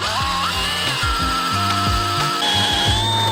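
Power drill with a spade bit boring into wood at a 10-degree bevel on a chair's back stick, a loud continuous whir with shifting pitch and no speech.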